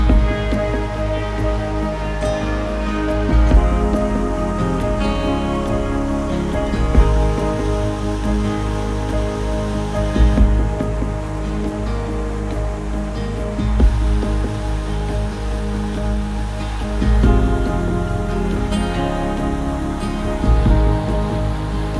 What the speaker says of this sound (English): I stopped to feel the water of this roaring Pishai waterfall